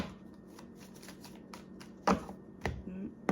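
Tarot cards being shuffled at close range, a quiet fluttering riffle of cards followed by a few sharper slaps and taps as the deck is squared.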